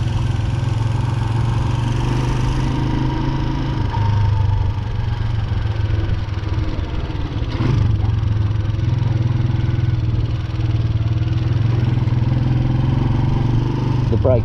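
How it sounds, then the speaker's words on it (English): A Honda CG125, a classic simple motorbike with drum brakes front and back, on a short ride, its mid-pitched single-cylinder engine droning steadily and close, shifting pitch slightly, with no speech. "this is a simple motorbike"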